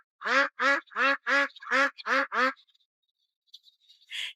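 A run of eight loud, evenly spaced quacks from free-range sheldrake (ma) ducks on an 800-acre ecological lotus-root pond farm, followed by a pause and a couple of softer calls near the end.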